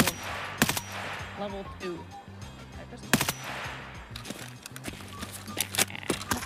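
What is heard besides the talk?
gunshots in a video game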